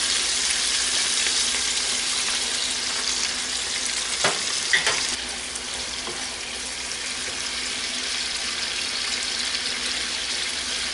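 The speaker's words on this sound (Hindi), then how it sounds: "अब 1 मिनट के बाद मैं सारे जो स्पाइसेस इसमें शामिल करूँगी और इसको भी 1-2 मिनट भूनूंगी।" Mutton chops frying with spices in a pan give a steady, close sizzle throughout, broken by a few brief clinks and stirring scrapes around the middle, with no talking.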